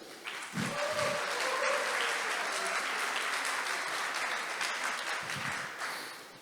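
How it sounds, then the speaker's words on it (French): An audience at a pitch and networking event at the Palais Brongniart in Paris applauds itself, dense sustained clapping that swells quickly and holds loud before tapering at the end. "je vous demande de vous applaudir"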